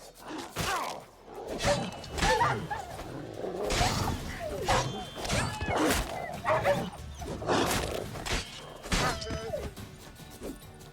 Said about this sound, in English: So these stray mutts form pack.